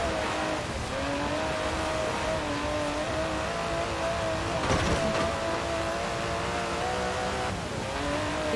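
An Aston Martin DB11 with a 5.2-litre twin-turbo V12 drones steadily in Forza Horizon 4, its engine tone rising and falling as it shifts. A brief louder burst comes midway, and the engine runs continuously beneath a narrating voice.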